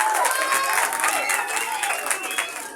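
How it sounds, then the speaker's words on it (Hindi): An audience at a children's 14 August school program claps for a child, a dense, steady round of applause with some crowd noise that tapers slightly toward the end. "तालियां"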